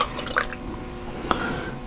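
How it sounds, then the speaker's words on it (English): Water is added to the interior of a clay pinch pot, making a soft, close trickle with a couple of small drips, brief and fairly quiet. "This, of course, is putting water back into the clay."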